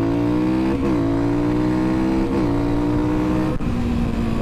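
A dirt bike engine with its intake snorkel removed runs steadily nearby, with a buzzing, harmonic-rich drone that rises and dips in pitch through a few small revs. The engine is loud and continuous throughout, with no talking.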